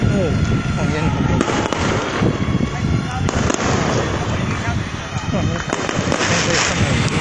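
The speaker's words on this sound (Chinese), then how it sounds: "看烟火" Fireworks burst and crackle through a temple festival procession, a dense continuous barrage of pops and bangs close by, with crowd voices mixed in throughout.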